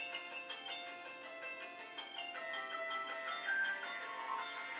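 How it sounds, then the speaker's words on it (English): A mobile phone ringtone plays a soft, steady melodic pattern of repeated electronic tones, fairly quiet and continuous throughout, with no one talking over it. "It's my phone."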